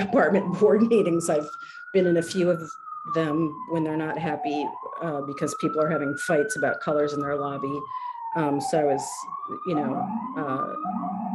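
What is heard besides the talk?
siren passing outside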